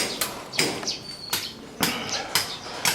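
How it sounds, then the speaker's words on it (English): Sharp hammer blows on a cold chisel held in a garden hose, cutting stone by hand in Ayutthaya, Thailand, about six strikes at an uneven pace, close by with faint background noise between them. "it's just a cold chisel held by something like a garden hose hit with a hammer."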